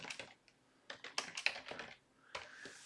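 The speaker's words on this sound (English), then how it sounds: "So obviously a lot of typing, not a lot of talking." Someone types on a computer keyboard in quick bursts of close, crisp key clicks separated by short pauses, with no talking.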